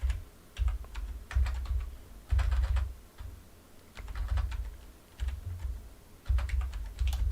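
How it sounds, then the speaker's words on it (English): Someone types on a new computer keyboard in uneven bursts of close, clicky keystrokes separated by short pauses, with a muffled thump beneath each run. "I got a new keyboard, and I am not used to how it types at all"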